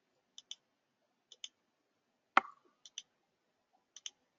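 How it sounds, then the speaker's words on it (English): Computer mouse clicking in performance analysis software, sharp paired clicks repeated at intervals with one louder thump in the middle, close and isolated in quiet. "I'm just going to click on L5 here."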